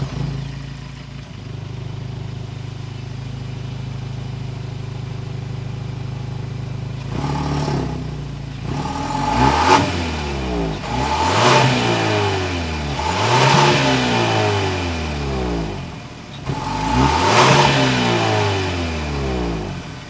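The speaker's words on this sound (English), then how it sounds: "Let's hear that exhaust note." A turbocharged 2022 Genesis GV70 idles, then revs four or five times in quick succession, each rise and fall of the exhaust note clear and close, with no talking.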